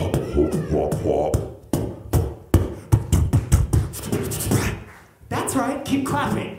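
Audience clapping along in rhythm at the Crossroads Beatbox Battle 2019 solo elimination, sharp handclaps falling in a steady beat beneath a performer's amplified voice and crowd noise, with a brief pause before the clapping resumes.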